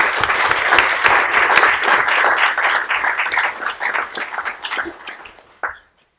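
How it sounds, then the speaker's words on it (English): Conference audience applauding a speaker at a European policy event on education, a full burst of many hands clapping that thins out and stops abruptly after about five and a half seconds, followed by near silence. "So I would like to give a huge full applause to Kerstin,"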